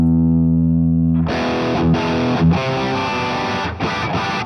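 On a Mooer GTRS M810 electric guitar set to a Les Paul-type tone, a sustained distorted note gives way to a burst of chunky, rhythmic riffing with a warm, heavy overdriven tone.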